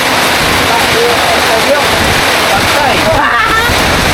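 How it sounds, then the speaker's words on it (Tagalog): Heavy rain pouring down outdoors, a loud constant hiss and splatter with a voice speaking briefly over it. "Malakas talaga ang ulan."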